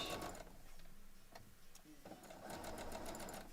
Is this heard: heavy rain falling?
no